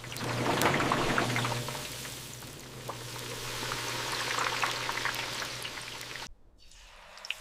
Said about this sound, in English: They plunge into the bubbling oil, emerging as crispy golden snacks.